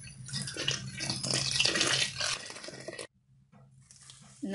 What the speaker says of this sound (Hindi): और अब हम इसमें डालेंगे एक जग पानी